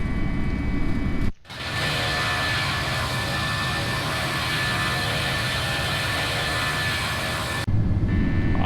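Simulated FSLabs A321 jet engines roar at climb power just after takeoff, a loud steady broadband drone that holds evenly for several seconds after a brief cutout near the start.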